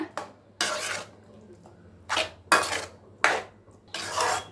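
A spoon scrapes and clinks against a metal pot in several separate bursts as coconut paste is stirred into a greens kootu, with a low steady hum in the background.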